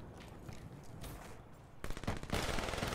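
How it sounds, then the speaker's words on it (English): Burst-fire gun shooting in a first-person shooter video game, rapid volleys of gunfire growing louder and denser in the second half, with no talking. "Burst gun."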